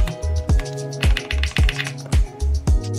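Typing on a true wireless split mechanical keyboard with hot-swappable sockets: sharp, loud, close keystrokes clacking in an irregular rhythm, roughly two per second, with no one speaking.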